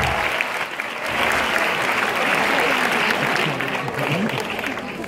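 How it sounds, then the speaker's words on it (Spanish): Sustained audience applause fills a theatre during the opening of an empanadilla festival in Malasaña, a dense steady clapping that holds at full strength for about five seconds, with faint voices mixed in. "Un aplauso, por favor."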